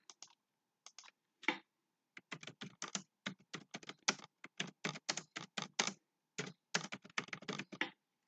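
Fingers type a note on a computer keyboard, quick bursts of crisp close key clicks with short pauses between runs, quiet background and no voices.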